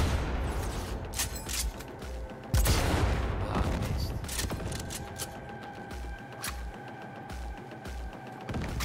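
Distant gunfire in Cyberpunk 2077 on PS5, a steady stream of shots with a heavier burst near the middle, sounding far off and mechanical, with no one talking.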